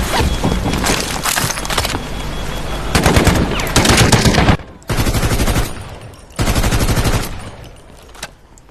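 Gunfire in the Delta Force shooter game: loud sustained automatic bursts separated by brief pauses, with rapid crackling shots dominating throughout and no talk.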